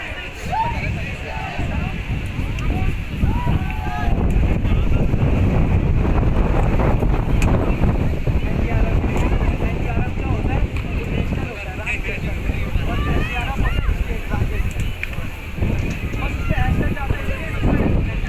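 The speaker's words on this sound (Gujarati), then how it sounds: "અત્યારે વરસાદ આવી ગયો ને થોડોક પવન આવી ગયો" Steady wind buffets the microphone with a low rumble throughout, with light rain, in hilly Rishikesh by the Ganga, while people talk underneath and occasional ambient sounds drift in.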